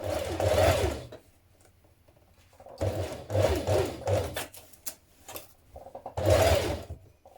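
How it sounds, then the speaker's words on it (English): A sewing machine stitches in the ditch along a waistband seam on a co-ord set, running in three loud bursts of steady whirring with quiet pauses and faint handling sounds between. "from the right side we're going to stitch in the ditch here"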